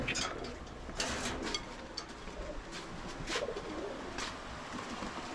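Pigeons packed in boxes give faint low coos amid rustling and scattered clicks and knocks from the birds moving about.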